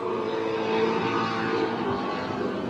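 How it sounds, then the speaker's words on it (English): An offshore racing powerboat screams at high RPM during a race at a beach waterfest, a steady loud sustained engine roar holding throughout without a break. "You really hear the RPMs of D.F. Young revving."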